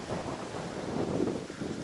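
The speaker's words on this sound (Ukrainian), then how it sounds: "дуже сильний вітер" Strong wind buffets the microphone at a lakeside fishing spot in a steady, roaring rush that never lets up, with no other sounds clearly audible.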